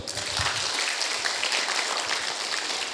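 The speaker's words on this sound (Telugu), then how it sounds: "గట్టిగా క్లాప్స్ కొడదాం." An audience at a meditation and wisdom talk program claps loudly and steadily for about three seconds, a dense, even wash of many hands at moderate distance with no voices over it.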